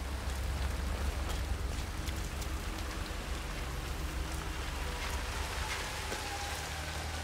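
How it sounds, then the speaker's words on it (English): Steady rain in the video game Hitman 3, set in Chongqing, China, pours down, a dense hiss of drops hitting surfaces with a low rumble underneath, constant throughout. "Rain, rain, nothing but rain."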